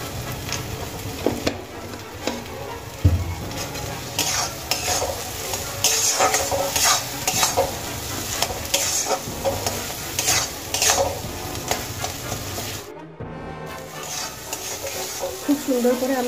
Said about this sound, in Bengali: খুব সুন্দর করে আমি এখানে ভেজে নিয়েছি